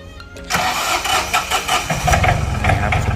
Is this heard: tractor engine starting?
yes